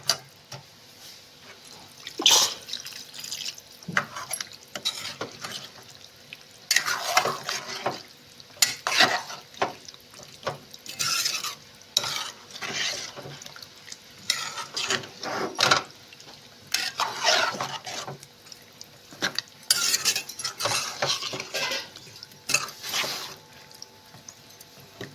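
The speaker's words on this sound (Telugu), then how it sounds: "బాగా కలిపెట్టుకోవాలా." Okra is stirred with water in a pan, a close series of irregular scraping, sloshing stirs with short pauses between them, over a soft, steady sizzle, and no one speaks.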